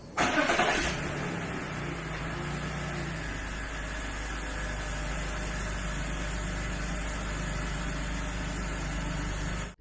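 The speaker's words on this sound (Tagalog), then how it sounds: "so I just started the car, warming up a little bit" A BMW E34 engine just started at a Sunday car meet, a brief loud start burst giving way to a steady idle rumble that holds close and even for the rest of the clip.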